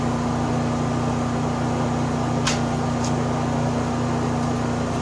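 An inverter plasma cutter and arc welder running on a Honda EU Series generator, a steady loud electrical hum with a constant tone and hiss, broken by two brief clicks midway.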